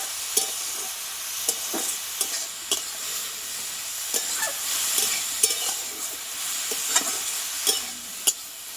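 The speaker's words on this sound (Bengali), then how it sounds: "দেখো এটা প্রায় দু মিনিট মতো নাড়াচাড়া করে নিয়েছি" Bathua (betho) greens fry and sizzle in a pan with garlic and onion while being stirred, a steady close hiss broken by repeated sharp scrapes and clicks of the spatula against the pan, with no talking.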